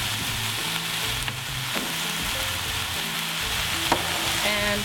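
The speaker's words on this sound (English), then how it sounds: "just give it a good stir" Chopped tomatoes with cinnamon and allspice sizzle steadily in a pan as they are stirred, a constant close frying hiss with faint scrapes throughout.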